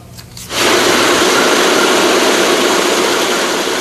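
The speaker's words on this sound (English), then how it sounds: "The roar of the engine starts it all." World War II B-17 bomber engine roaring to life at an airfield: after a brief quiet start a loud, dense, steady roar sets in and holds unbroken, close and powerful.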